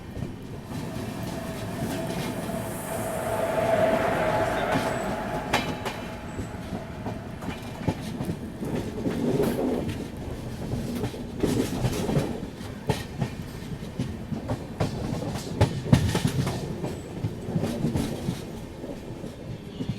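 Tirunelveli Bilaspur Super Fast train crawling slowly along the rails, a steady rumble from inside the carriage with irregular wheel clatter and clunks.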